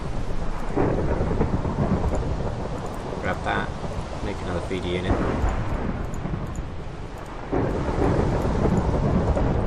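A loud Minecraft thunderstorm rumbles with heavy rain and wind noise throughout, a deep roll of thunder swelling near the end, while someone talks over it in a modded hard-mode game.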